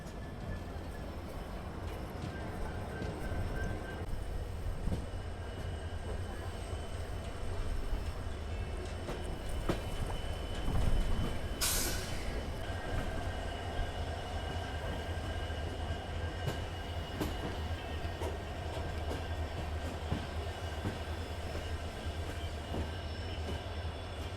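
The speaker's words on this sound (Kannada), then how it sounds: "ಮುಂದೆ ನಮಗೀಗ ಬ್ಯಾಂಕರ್ ಲೊಕೊಮೋಟಿವ್ಸ್ನ ಆ್ಯಡ್ ಮಾಡ್ಯಾರ ನೋಡ್ರಿ." Poorna Express train rolling past Castle Rock station with banker locomotives attached, a steady continuous rumble of wheels and cars throughout, with a brief high squeal midway and faint voices in the background.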